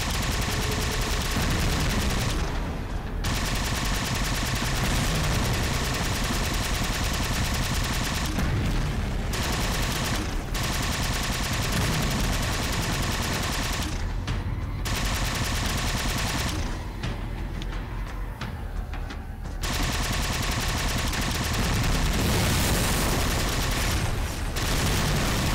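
Sustained heavy gunfire and explosive blasts fill a Halo Spartan Ops firefight, dense and loud almost throughout, broken by a few short quieter gaps.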